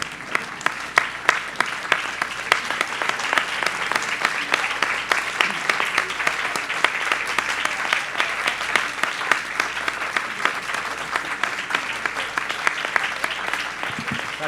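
A standing audience at a book fair gathering claps for photographer Cláudia Andujar, a long, dense, sustained ovation with sharp individual claps scattered through it and no talk.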